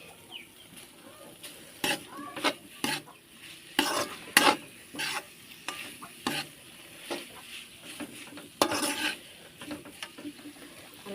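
A spoon stirs Maggi noodles and pasta in a pan, giving a run of irregular, fairly close scraping and clacking strokes over a faint background hiss.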